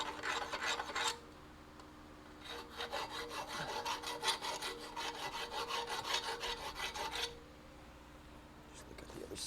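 Deburring the far side of a part in a garage workshop, with quick rhythmic rasping strokes in two long bursts separated by pauses, close and fairly loud.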